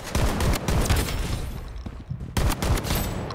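Dense, rapid gunfire from the video game Blood Strike fills the whole clip: continuous automatic bursts with a short lull near the middle before the shooting resumes, loud and close with no speech.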